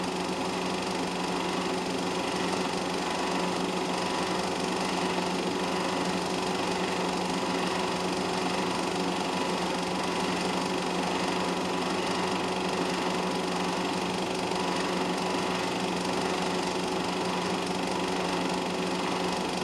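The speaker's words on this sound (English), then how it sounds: "Looks like the Saab is overtaking the old MG." Racing car engines drone steadily as a Saab overtakes an old MG during a race, a continuous loud mechanical roar with a buzzing, high-revving tone and no clear passes or breaks.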